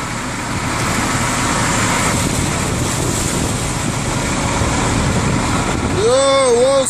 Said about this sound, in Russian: Волны, волны,